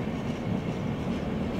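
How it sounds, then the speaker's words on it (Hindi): A passenger train runs on the Shahjahanpur–Pilibhit line heading toward Bareilly, a steady low rumbling roll heard from onboard, continuous and even with no voices. "सामने बरेली की दिशा में ट्रेन जा रही है"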